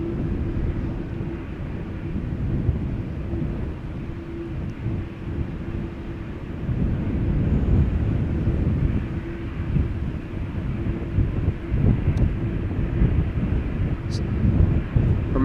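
A Nippon Cargo jet departing Amsterdam Schiphol, a low, rumbling engine roar that swells and stays heavy, mixed with gusty wind buffeting the microphone, heard from outdoors at a distance.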